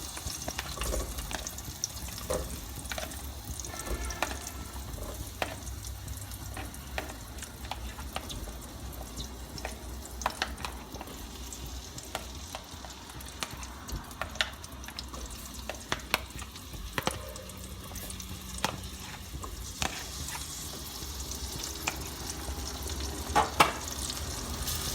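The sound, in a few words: onions frying in pan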